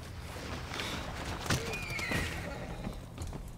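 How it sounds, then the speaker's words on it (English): Horse neighing and galloping in the video game Civilization 6: a loud, shrill whinny rises over a continuous rumble of hooves and ambient game noise. "And the horse is free to run."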